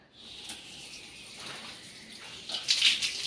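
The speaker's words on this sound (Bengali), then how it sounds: "তো জল তো পড়ছে।" Water running from a cut pipe, a steady hiss that grows louder and splashier toward the end, close by and with no one speaking.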